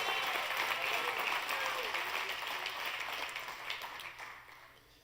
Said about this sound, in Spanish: dale esa alabanza a Dios con ese aplauso